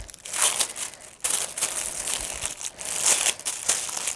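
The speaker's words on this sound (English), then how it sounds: "You just dab it on and it kind of will attach to the adhesive, and then you rub the excess off" Gold foil sheet is rubbed and dabbed onto adhesive tape, giving close, crisp crinkling and scratchy rustling in bursts, with short pauses between strokes.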